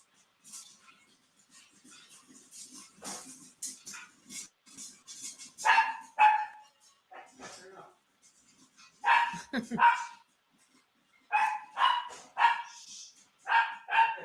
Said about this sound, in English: He's starting to bark a lot now.